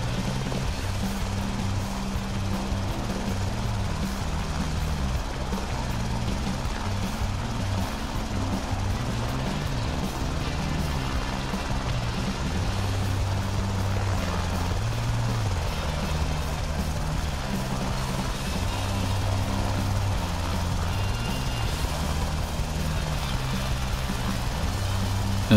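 An Airbus H125 helicopter hovers over a pad in Microsoft Flight Simulator, its steady, droning rotor and turbine hum holding level for the whole stretch with small shifts in pitch. No one speaks.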